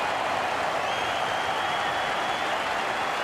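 Full-house crowd applauding at a one-day cricket match in Sydney between Australia and Pakistan, a steady, broad wash of distant clapping and crowd noise with no break.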